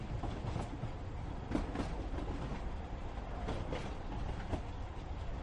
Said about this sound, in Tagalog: Biyahe kan tren.